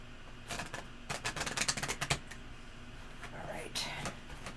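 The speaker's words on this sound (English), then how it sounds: "I'm going to have you shuffle too this time and cut them" Tarot cards shuffled by hand at a reading table, a run of quick riffling flutters and soft taps clustered in the middle, with quieter card handling before and after.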